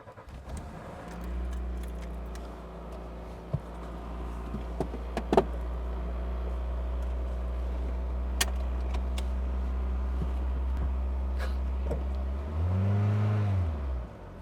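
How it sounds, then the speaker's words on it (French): A car engine runs at a steady low drone close by, with a few light clicks and knocks along the way and a brief swell in engine note near the end; no talking. "Regarde, écoute le moteur"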